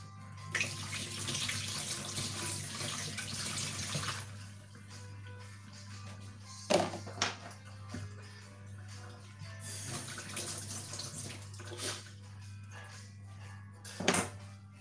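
Tap water runs steadily over a peeled ingredient being washed for a Nigerian fish pie, a broad continuous rush with a few brief knocks and splashes, close and alone.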